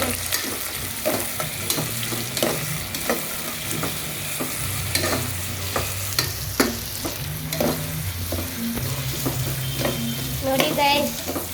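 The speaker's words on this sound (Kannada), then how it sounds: "ಆ ಈರುಳ್ಳಿ ಸ್ವಲ್ಪ ಬೇಯಲಿ ಗೈಸ್, ಅಲ್ಲಿಗಂಟ ಮಿಕ್ಸ್ ಮಾಡಿ. ನೋಡಿ ಪಳ ಪಳ ಅಂತ ಹೊಡಿತಿದೆ." Chopped onions for chicken biryani fry in hot oil while being stirred. A steady sizzle continues the whole time, punctuated by repeated scraping and clacking strokes of a spoon against the pan, loud and close, with no talking.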